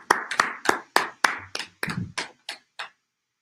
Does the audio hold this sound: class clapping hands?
yes